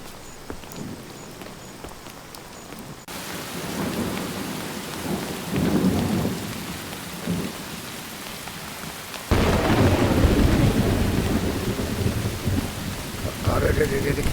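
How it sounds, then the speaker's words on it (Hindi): Heavy rain pours steadily from start to finish, with rolls of thunder rumbling through it; the downpour grows louder and denser partway through and stays strong to the end. "बारिश बहुत तेज हो रही है ना?"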